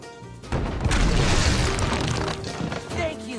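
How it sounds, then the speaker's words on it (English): An old cannon fires in the Skylanders Spyro's Adventure video game, giving a single broad booming blast that swells after a brief lead-in and rumbles away over about three seconds. "Use the action button to fire the cannon."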